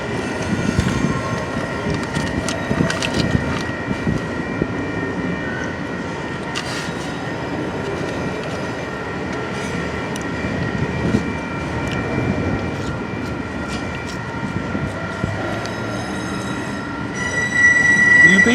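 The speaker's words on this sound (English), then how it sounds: "UP train going very slow around the junction here, going around the sliding here" Union Pacific manifest freight train crawling slowly around a junction into a yard, with continuous rolling rumble and sustained high-pitched wheel squeal on the curve, fairly distant and steady, no talk.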